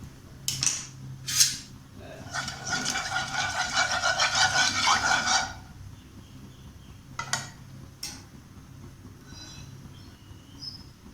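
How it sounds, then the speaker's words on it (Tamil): A knife scoring boiled eggs in a dish for egg biryani: two sharp metallic clicks, then a few seconds of continuous scraping, followed by sparse later taps, close and fairly loud, with no one talking. "முட்டையை இந்த மாதிரி கீறி விட்டுக்கோங்க"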